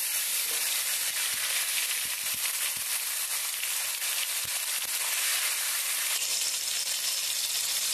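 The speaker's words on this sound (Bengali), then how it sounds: "এখন আমি টমেটো কুচি করে রেখেছিলাম সেটা দিয়ে দেব।" Chopped tomato goes into hot oil spiced with kalo jeera and mustard seed, giving a steady, dense sizzle that fills the whole span at moderate loudness, with faint spoon taps and pops underneath.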